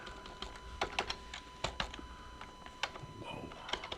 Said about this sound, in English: Keyboard's a little sticky.